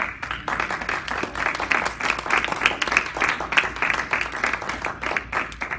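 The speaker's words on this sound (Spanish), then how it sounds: "Den un aplauso al Señor." A church congregation claps in praise, dense rhythmic applause from many hands filling the room steadily and loudly for several seconds.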